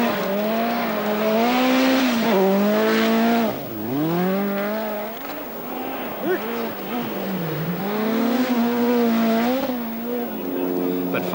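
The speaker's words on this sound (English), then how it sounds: "first down the frozen roads in the new RS200" A Ford RS200 rally car races down frozen roads on a Swedish Rally stage, its engine note rising and falling through repeated revving and gear changes, loud and close, with a voice talking over it.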